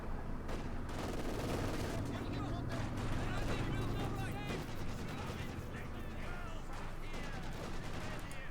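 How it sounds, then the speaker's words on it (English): Dense battlefield gunfire from Company of Heroes 2, with a machine gun firing repeated bursts amid other shots and explosions, loud and continuous, while a commentator talks over it. "Disco firing at the MD-42, suppressing it, pushing him back."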